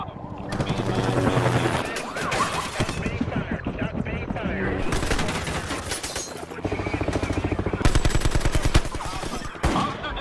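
Rapid bursts of automatic gunfire crackle loudly over a throbbing helicopter and intense action noise, with voices shouting in between.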